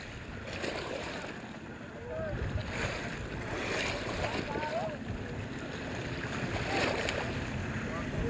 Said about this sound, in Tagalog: Ayan, may bangka na umiikot oh.